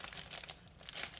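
Pasta packaging crinkled by hand in a home kitchen, a brief soft rustle of a few quick crinkles, faint and close.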